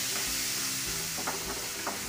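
Chopped onions sautéed in oil for a Tamil-style vadacurry side dish, a steady close sizzle with soft scraping stirs of a spoon against the pan, broken by a few brief clinks near the end.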